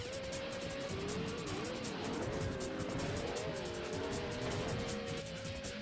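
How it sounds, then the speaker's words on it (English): Car engine revving with tires squealing as the vehicle drifts in the racing video game Midway Arcade Treasures 3, a continuous wavering engine tone with steady skid noise under faint talk. "It's a very drifty car."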